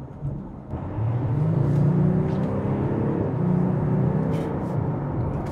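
An Audi S5 diesel with a custom remap and front-mount intercooler pulls hard under acceleration, a steady loud engine drone rising in pitch with audible breaks as gears change, heard from inside the cabin.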